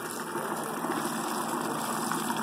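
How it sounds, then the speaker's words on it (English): A Drummond sump pump pushes Barnacle Buster flush through a Yamaha outboard motor, a steady close gushing rush of liquid with a faint mechanical undertone and no speech. "I got a Drummond sump pump."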